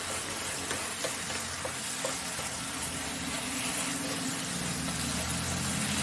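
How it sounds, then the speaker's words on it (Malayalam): Chicken chukka cooking in a pan with garam masala mixed in, a steady close sizzle and frying hiss with faint stirring scrapes throughout and no talk. "ഗരം മസാല പൗഡർ ആഡ് ചെയ്തതിന് ശേഷം നന്നായിട്ട് മിക്സ് ചെയ്യുക."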